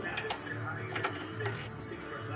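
Short bursts of metallic clicking from a socket ratchet tightening a lower control arm bolt on a second-generation Mercury Mariner or Ford Escape, close and fairly loud over low garage rumble.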